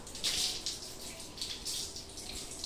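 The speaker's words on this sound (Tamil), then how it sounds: "ஹோஸ் வச்சு தண்ணி அடி." A garden hose sprays water outdoors in close, hissing bursts that surge and ease in uneven pulses. No voices can be heard over the spray.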